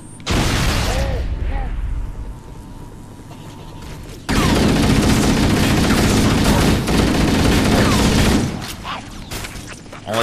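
Assault rifle gunfire in the Halo video game, loud sustained bursts of rapid shots in two long stretches with a brief gap between, dense and close, with a voice talking over the action.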